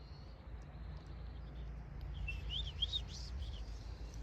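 A strange-sounding wild bird calls in mountain country, a short run of several rising chirped notes in the second half, fairly faint and distant over a steady low background rumble.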